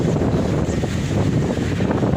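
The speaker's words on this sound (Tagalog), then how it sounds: "Oh, lakas ng hangin, guys." Strong wind buffets the microphone after a typhoon, in a steady low roar, with rushing noise throughout and no clear voices.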